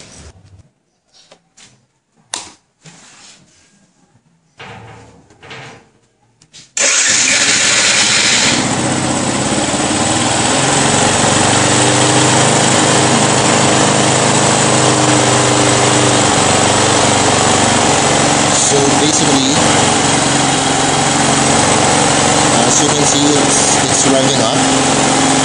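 A Bajaj Pulsar motorcycle engine with an auto choke fires up after a few quiet seconds of faint handling noise, then runs at a steady, loud idle that continues unbroken to the end.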